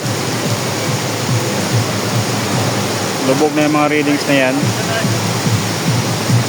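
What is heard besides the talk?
rushing flood water of river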